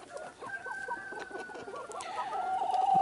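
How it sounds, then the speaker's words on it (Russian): Hens clucking close by in a yard with crooked-legged chickens and young roosters, a busy overlapping run of short clucks and calls that grows louder toward the end, with no talking. "Курочки."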